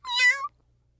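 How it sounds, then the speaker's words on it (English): A single cat meow, loud and close, with a clear tonal, harmonic cry lasting about half a second and then silence. "that cat is deranged"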